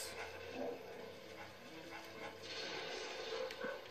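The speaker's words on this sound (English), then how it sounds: "See this dog, we want it to get its attention." A dog in the Luigi's Mansion video game barks and yips as it gives chase, faint and low in the mix against soft game sounds.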